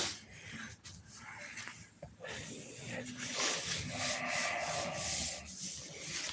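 Close, continuous sandpaper rasping over a finish repair, strokes blending into a steady gritty hiss that grows slightly louder partway through.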